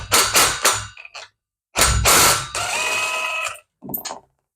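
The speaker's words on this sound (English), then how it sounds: "if you just put a rattle gun on it, it will bring it straight off" A rattle gun spins a nut off a World Formula go-kart engine during a gasket replacement, loud close-up bursts of rapid hammering and whirring separated by pauses.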